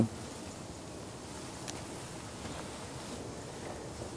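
Steady gusting wind and storm noise at a carp fishing spot by the water, a continuous broadband roar with microphone buffeting and faint surf-like washing, holding even throughout.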